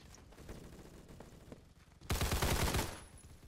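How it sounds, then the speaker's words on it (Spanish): Scattered faint gunshots in the game Phantom Forces, then a loud burst of rapid automatic fire for about a second before it trails off. "me están cosiendo a tiro"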